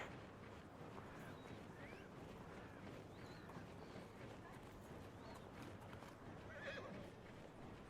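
Horse neighing and whinnying with clip-clop hooves in the medieval combat video game Conqueror's Blade, a close, steady outdoor bed with several bright whinnies rising above it, loudest near the end.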